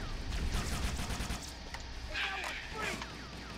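Rapid automatic gunfire in Halo: Combat Evolved, a dense burst of shots followed by scattered bursts and energy-weapon zaps, with a player talking over the action.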